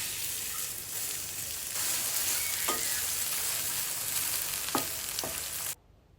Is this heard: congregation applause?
no